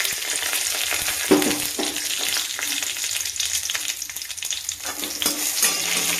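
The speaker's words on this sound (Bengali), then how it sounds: "এবার এই সর্ষের তেলটার মধ্যে একটু কালো জিরে ফোড়ন দিলাম, আর একটু শুকনো লঙ্কা দিলাম" Nigella seeds, dried red chili and asafoetida sizzle in hot mustard oil, giving a steady frying crackle that runs throughout, with a few louder pops and spatters and some light stirring, with no voices.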